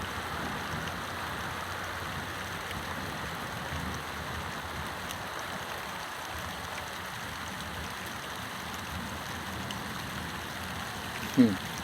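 Heavy rain pours steadily onto the roof of a converted bus during an evening storm, a dense, even hiss with low drumming that holds constant throughout, ending in one brief knock.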